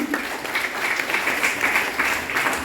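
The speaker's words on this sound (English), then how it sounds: "please give a round of applause to Kamini" At a secondary school graduation ceremony, the audience gives a continuous round of applause, dense overlapping clapping at a steady level throughout.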